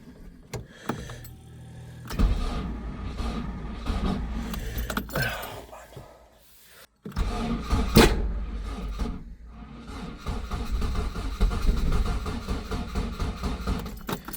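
A Ford Escort Mk1 with a brand new starter is cranked twice, with a pause between attempts, as keys jangle; the engine catches and settles into a close, steady running rumble.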